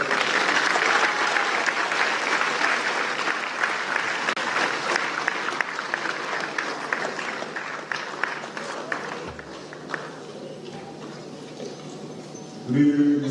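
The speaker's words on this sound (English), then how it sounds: "a round of applause." Audience applause at an evening event, a full round of sustained clapping from a crowd that gradually thins out, followed at the very end by a voice beginning to speak.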